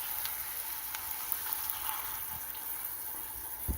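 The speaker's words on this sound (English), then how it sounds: "we're going to simmer this a little bit with the taco sauce and the seasoning" Taco sauce and seasoning with beef simmering in a skillet for a taco casserole, giving a steady soft hiss and gentle bubbling sizzle throughout, fairly quiet and continuous with no talking.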